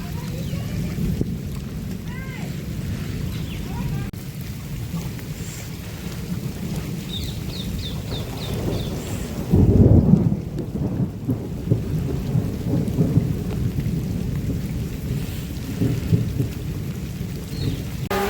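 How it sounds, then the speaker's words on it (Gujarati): Steady heavy rainfall in Banaskantha, Gujarat, patters throughout, with a brief louder rumble partway through like distant thunder. "તમે જોઈ શકો વરસાદ પડ્યો છે"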